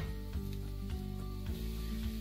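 Chicken perattu is stirred in a hot pan, producing a soft sizzle with a few scraping strokes over a steady tonal hum, no voices.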